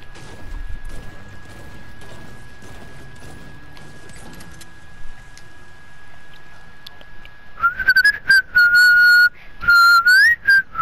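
A person whistles a sustained steady note, then breaks into a run of louder, sliding and wavering whistled tones near the end, alone without talk, in a Fortnite gaming session.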